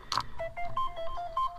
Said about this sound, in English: Notifications coming in.